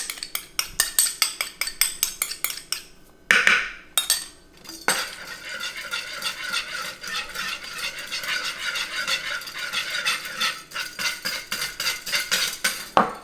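Lemon juice and Dijon mustard are whisked into a Caesar salad dressing, a rapid, rhythmic metal whisk clattering against a bowl, close and continuous with a brief pause early on.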